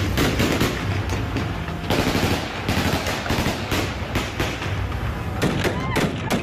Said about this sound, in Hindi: गोलियां बरसानी शुरू कर दी।